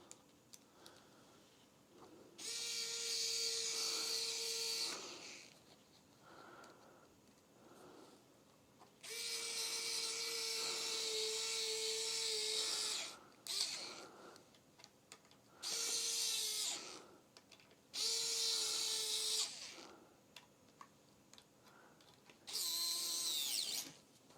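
Cordless drill driving screws into a Gibson Custom Explorer guitar, five separate whirring bursts of a few seconds each with quiet gaps between them, close and fairly loud, with no talking.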